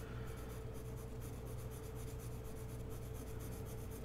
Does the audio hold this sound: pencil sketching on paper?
yes